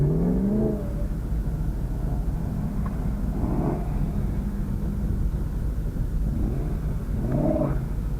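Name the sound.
BMW M3 cars accelerating in a mini drag race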